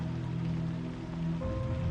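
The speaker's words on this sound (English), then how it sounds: "Just me in the rain." Steady rain pours down in a dark, rain-soaked future city, a dense continuous hiss with a low droning bed and a faint tonal hum rising near the end, no voices over it.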